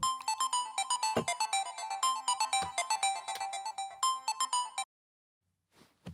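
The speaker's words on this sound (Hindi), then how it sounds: "ए, भाई को फोन लगा।" A phone ringtone plays during an outgoing call, a rapid electronic melody looping for several seconds before stopping abruptly, followed by a brief faint noise near the end.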